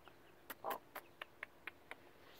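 Twelve-day-old chicks in a garden, faint, with a string of short peeps about every quarter second and one slightly longer chirp, against quiet outdoor background.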